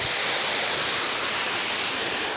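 Tarimis Falls in Montalban, Rizal roars at the top of the mountain as a loud, dense, steady rush of falling water with no other sounds.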